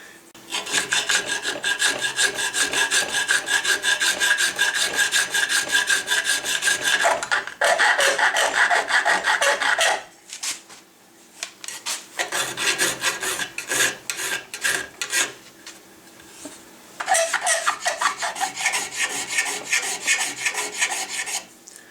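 A metal file rasps screw heads flush on the wooden patchbox of a gun, in loud, rhythmic back-and-forth strokes that run in long bursts separated by short pauses.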